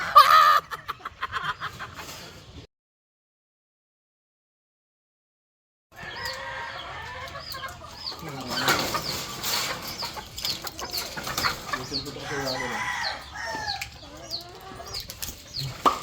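Chickens cluck and squawk close by in a busy, overlapping chorus, following a short stretch of silence, with scattered flapping and rustling.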